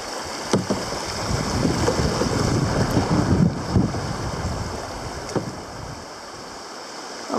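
A kayak paddled down a shallow river past exposed bedrock, with soft paddle splashes and water swishing against the hull under steady wind buffeting the microphone, a couple of sharper knocks standing out.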